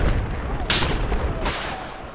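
A single loud sniper rifle shot in a video game cracks sharply over a rumbling battle background, followed by a second fainter report about 0.7 seconds later.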